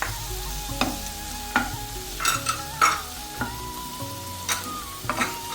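Cleaned mushrooms frying in a pan, with repeated spatula scrapes and clanks over a low, steady sizzle, close up and without voices.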